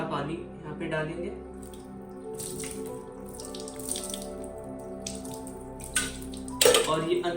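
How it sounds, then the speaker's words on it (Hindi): Water is poured through a filter cloth in a Jain water-straining ritual, a continuous trickling and splashing with a brief louder gush near the end, and a voice speaks faintly underneath. "दोबारा पानी यहाँ पे डालेंगे"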